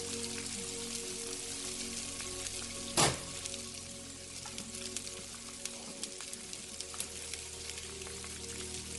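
Onions frizzling in hot oil in a pan, a constant dense sizzle and crackle with one brief louder pop partway through, heard alone without talk.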